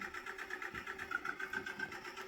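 A tractor engine runs at low speed during bale harvesting, a steady rhythmic mid-pitched chug with a pulsing beat and faint whine, heard from a moderate distance.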